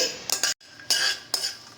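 Peanuts dry-roasting in a pan are stirred with a utensil, making a few short, bright scraping bursts close by, split by brief pauses, with no talk.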